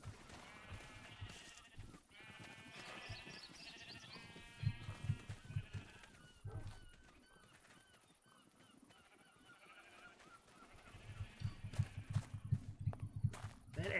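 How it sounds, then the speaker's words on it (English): Sheep bleating in a video game, several overlapping bleats and honk-like calls in bursts over steady background ambience, with a brief quieter stretch midway before the calls swell again. "There's the sheep that you wanted the other day."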